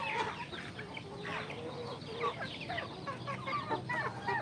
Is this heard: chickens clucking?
yes